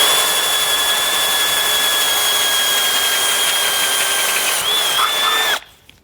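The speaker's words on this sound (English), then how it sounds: "we can actually grab a smaller drill bit, come up over that opening, and drill out a pilot hole" A power drill with a small bit bores a pilot hole in a car base plate mount, a loud steady whine held for several seconds before it winds down and cuts off.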